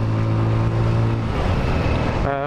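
A Lexmoto Diablo 125 motorcycle rides down a hill on an open road at just over 30 mph, its small engine droning steadily and loudly up close, with wind rush over it.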